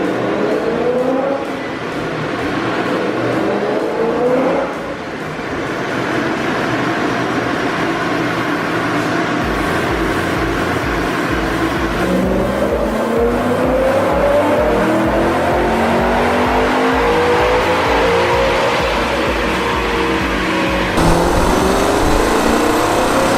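A high-powered car is revved hard on a dyno, a loud continuous engine roar with pitch climbing through repeated rising sweeps and a few abrupt shifts, running throughout with no voices.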